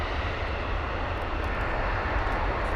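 A fixed-wing aircraft at London Heathrow airport gives off a steady, loud engine roar that holds evenly throughout with no break and no voices.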